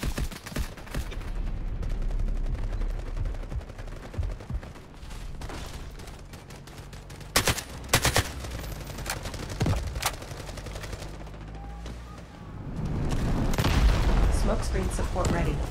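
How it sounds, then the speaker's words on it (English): Cruise missile strike and explosions during a defensive battle in the shooter Delta Force Hawk Ops, steady distant gunfire and rumbling booms with several sharp blasts, over a constant battlefield din, with a voice speaking partway through. "Cruise missile launch."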